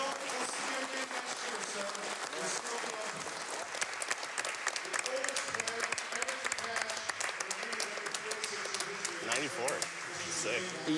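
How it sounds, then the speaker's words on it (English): Steady applause from the crowd at the World Series of Poker main event in 2015, sounding somewhat distant and filling the room, with sharper individual claps surfacing and talk underneath. "A nice round of applause for William."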